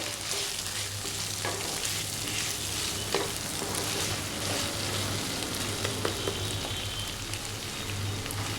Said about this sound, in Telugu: ఇప్పుడు ఇందులో కొత్తిమీర పుదీనా కరివేపాకు వేసుకొని ఒక నిమిషం పాటు మగ్గించి